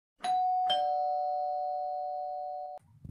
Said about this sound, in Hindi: थोड़ी ही देर में डोरबेल बजती है।